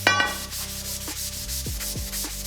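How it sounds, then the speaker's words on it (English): A hunk of metal is sanded by hand to prepare it for paint, giving a steady, loud rubbing scrape with repeated strokes and no talking. "Just grab a hunk of your finest metal and start sanding."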